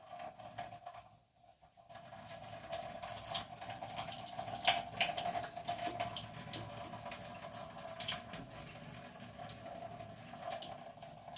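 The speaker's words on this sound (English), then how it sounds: "So I'm going to drain this water off." Soaking water from beans drains into a kitchen sink, a soft steady trickle and splash with a brief pause near the start and faint clatter, quiet and without voices.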